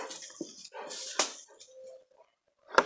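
A dog whimpers and whines in short uneven bursts close by, with a sharp yip near the end, in an otherwise quiet room.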